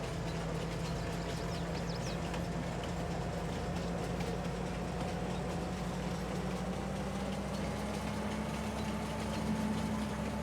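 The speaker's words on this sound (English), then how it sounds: "That train gets up to speed very quickly" A train in Farming Simulator 22 picking up speed, a steady engine drone with a slowly rising tone under a constant rumble of rolling wagons, close and unbroken with no voices.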